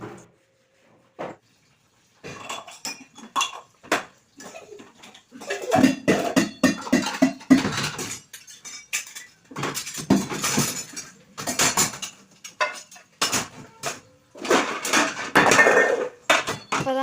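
Dishes from a kitchen stand being washed and set down, with irregular clinks, clatters and knocks of pots and utensils against each other, close and busy, with short pauses between bursts.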